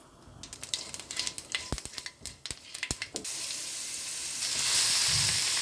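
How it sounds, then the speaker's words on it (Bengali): Bay leaf, panch phoron and whole cumin fry in oil for a Bengali rohu fish-head and bottle gourd dish, first crackling in sharp popping bursts, then settling into a steady hissing sizzle, close and fairly loud. "তেলের মধ্যে হালকা ভেজে নিতে লাগবে"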